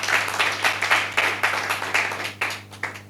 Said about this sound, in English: And for this, I'd want to applaud yourself.